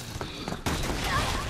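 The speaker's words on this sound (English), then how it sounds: "Wow, what the hell is that explosion?" Sudden loud blast from an explosion in the video game Resident Evil 6, cutting in sharply midway and leaving a sustained rumbling roar, following quieter game sounds and some background talk.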